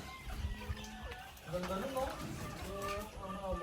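Chickens cluck and murmur nearby while people talk over them in a busy outdoor setting.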